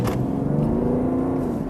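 A BMW 5 Series Touring 530d diesel engine accelerates, droning steadily and loudly nearby, a deep continuous hum with a slight rising tone, no voices.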